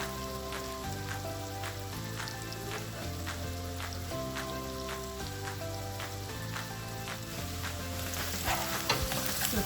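Chopped onion sizzles and fries steadily in a hot pan while a utensil stirs it now and then, a close, continuous crackle with no voices, as the first step of a chicken pasta in white sauce.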